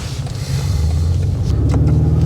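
A 2025 BMW M5 G90's 4.4-liter V8 in Sport Plus mode rumbles loud and close while driving, a deep steady drone that swells slightly as it pulls.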